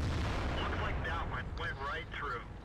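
A tank gun fires in World of Tanks during an SU-100 battle, a heavy booming shot and rumble at the start, followed by mixed game battle noise while someone narrates over it.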